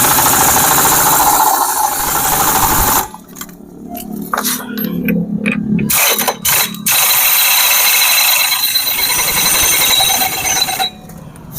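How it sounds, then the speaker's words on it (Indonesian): Pneumatic impact wrench tightening the nut on a Honda Beat FI CVT during service, loud rapid hammering bursts in several short runs between stretches of steady mechanical noise. "Kita kencangkan pakai impact."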